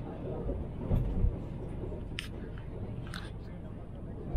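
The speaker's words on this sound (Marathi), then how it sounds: "हो फायनली आता ट्रेन निघाली आहे दादरवरून" A Vande Bharat express train running out of Dadar station in Mumbai, with a steady low onboard rumble and faint rattles through the carriage. A few brief knocks sound near the start, and people talk quietly in the background.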